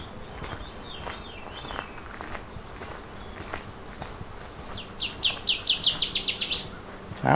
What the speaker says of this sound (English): Here's our northern waterthrush.